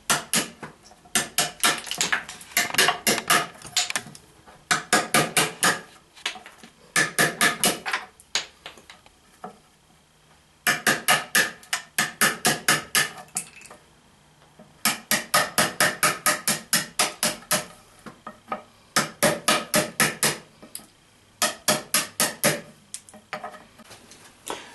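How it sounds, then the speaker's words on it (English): Chisel struck to clean up cuts in wood while building a workbench, repeated sharp close hammer blows in rapid rhythmic bursts of about a dozen strikes, separated by short pauses, no talking. "we're going to take our chisel and we're just going to clean it up a little bit"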